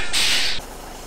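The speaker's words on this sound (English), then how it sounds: "I like that connection noise there. I'm not sure if that was the trailer or the truck itself." Truck coupling to a Fliegl log trailer in Farming Simulator 2017, heard as a single loud airy hiss and clunk lasting about half a second, then a quiet low hum.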